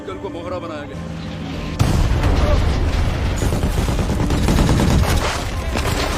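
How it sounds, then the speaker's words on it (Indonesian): Mortar fire pounds an armored vehicle in a war movie battle scene: loud, dense, overlapping blasts and rattling gunfire that grow heavier after a sharp onset and then continue unbroken. "musuh pun kembali menyerang mereka dengan senjata mortir"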